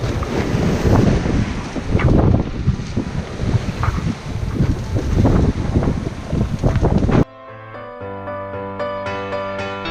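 Strong wind roars over a sailboat reefed down under a black storm cloud, loud and gusty with rushing water, until it cuts abruptly to steady tonal music in the final seconds.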